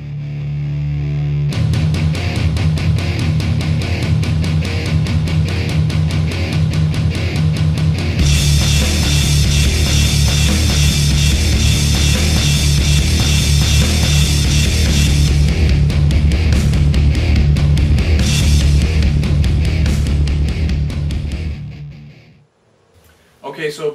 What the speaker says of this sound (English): riffs at the end, and they sound like this.